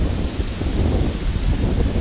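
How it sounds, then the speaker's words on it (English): Gusty wind buffets the microphone in a constant low rumble, rising and falling slightly, with no voices. "It's got pretty windy, really."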